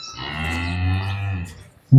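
A young female cow calf, offered for sale at a cattle yard, gives a single sustained moo of about a second and a half, close and fairly loud, with no talk over it.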